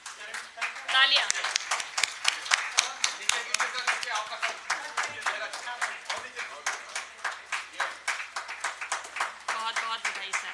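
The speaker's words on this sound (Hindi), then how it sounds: "तालियां।" An audience at a Hindi ghazal collection book launch claps steadily for about ten seconds, a dense, even patter of many hands at moderate loudness.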